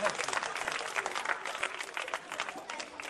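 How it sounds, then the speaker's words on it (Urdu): An audience at a school literary program breaks into lively applause for a team of girls, a dense, steady clatter of many hands with faint crowd voices mixed in. "زوردار تالیاں ان بچیوں کے لیے"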